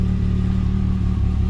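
A 2022 Can-Am Maverick X3 XMR Turbo RR Max engine idles up in sport mode, a steady close mid-pitched rumble with a slight clattery texture that holds even and unbroken throughout.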